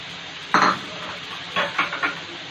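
Beef qeema karahi cooking in a pot as about one cup of yogurt is added, with a sharp clink of a utensil against the pot followed by a few softer stirring scrapes and clinks, close and moderately loud.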